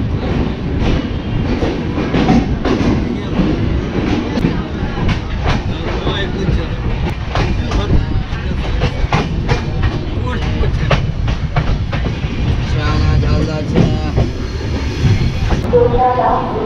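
Inside a sleeper-class coach of the Kolkata–Udaipur Ananya Express near Madhupur, a loud, close rumble of the train continues throughout, with rhythmic clickety-clack wheel beats over the rails.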